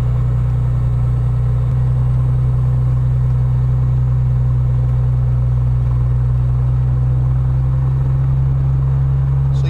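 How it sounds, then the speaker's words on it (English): An aircraft propeller engine runs with a loud, steady, deep drone that fills the whole stretch, close and continuous, with no voices over it. "The engine sound has started increasing because we have started moving the throttle upwards."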